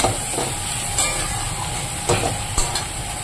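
Mixed vegetable curry sautéed in a pan until well cooked down: a steady, close sizzle and hiss, broken by a few soft scrapes of stirring.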